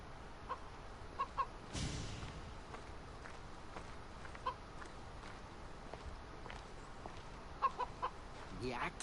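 A chicken clucks in short, scattered bursts within a video game scene, over a quiet ambient bed with faint footsteps and a brief louder rustle partway through.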